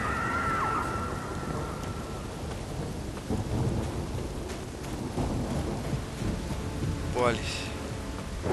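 Thunder rolls and rumbles over steady rain in The Witcher 3 storm, a broad continuous wash with distant crackling peals, while someone speaks briefly over it.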